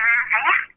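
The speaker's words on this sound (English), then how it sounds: "That's the sound of a cat." A short cat meow from the video game Fortnite, thin and band-limited as if heard over a phone line, rising then trailing off in under a second.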